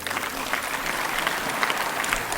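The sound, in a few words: applause during a speech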